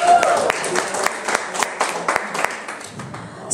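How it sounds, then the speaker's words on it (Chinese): Scattered claps ring out from a small audience at a skincare product sharing meeting, sharp and uneven rather than a dense roar, following a brief voice at the start. "来，再次给大家出席一个热烈的掌声"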